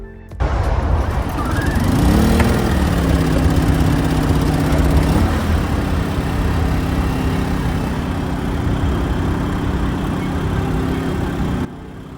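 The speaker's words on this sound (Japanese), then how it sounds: "今までと全く同じ手順で発電機をセットしました。" An EENOUR GS900i-B portable gas generator running on a cassette gas canister, a steady engine hum that holds at a constant level for about eleven seconds, with a brief rise in pitch near the start before settling.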